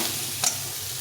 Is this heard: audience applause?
no